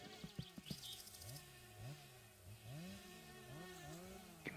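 A chainsaw cutting wood off in the background in the game My Summer Car, faint and distant, its engine revving up and dropping back in repeated swoops.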